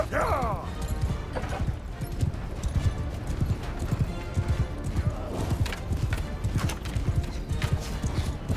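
Rapid hoofbeats of a galloping horse in Mount & Blade II: Bannerlord, close and steady throughout, mixed with clanks and crashes from a busy battle scene.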